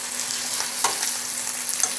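Potatoes fry in oil in a saucepan with a steady, bright sizzle, an occasional louder crackle or stir breaking through the continuous hiss.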